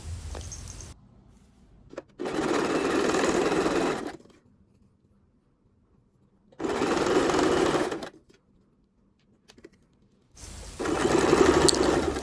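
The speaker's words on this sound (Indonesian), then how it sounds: "Lalu kita jahit ke bagian melengkung ini pelan-pelan." A sewing machine stitches a trouser fly and its lining in three loud, close bursts of fast, steady whirring, separated by quiet pauses, with no talking over the stitching.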